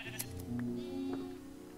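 A Minecraft sheep gives a single soft, drawn-out bleat against a quiet game background.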